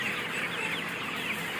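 Pullet laying hens, about 10,000 young birds in a poultry house, make a steady chorus of overlapping clucks and murmurs, moderately loud with no talking.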